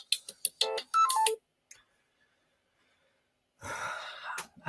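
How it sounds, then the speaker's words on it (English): A phone ringtone triggered by a hand clap sounds in short bright melodic bursts at the start, then near silence, followed by a louder burst of noisy, breathy sound near the end. "Clap and set the damn phone off."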